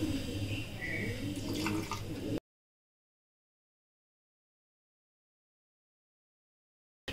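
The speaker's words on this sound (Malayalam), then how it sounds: "നമുക്ക് കുറച്ച് വെള്ളം ഒഴിക്കാം." Water pours into a mixer grinder jar of chilli, ready for grinding coconut paste for a horse gram and tapioca erissery. It is a short, steady splashing pour of about two seconds, close by, followed by silence.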